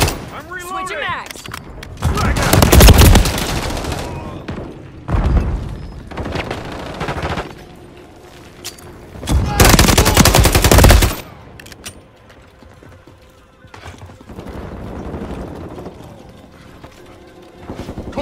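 Automatic gunfire from Call of Duty Modern Warfare 3 multiplayer comes in two loud sustained bursts, with scattered shots, mechanical clatter and softer firing around them, while game voices call out in the background.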